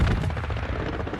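Aircraft strafing run in Hell Let Loose: a loud, continuous roar of engine noise and rapid gunfire with dense, rumbling impacts fills the brief moment, close and heavy without pause.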